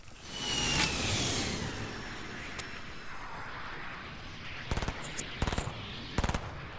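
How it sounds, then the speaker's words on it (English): Gunfire in an online 50-versus-50 shooter game on a laggy server: one loud shot with a long ringing tail near the start, then a burst of three sharp cracks near the end, with no talking. "See if I can just randomly shoot and kill someone."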